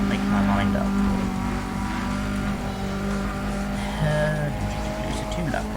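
Race car engines rev and tires squeal throughout a two-lap circuit race in Need for Speed Undercover, a steady droning whine with rising pitch sweeps and brief squeals, moderately loud.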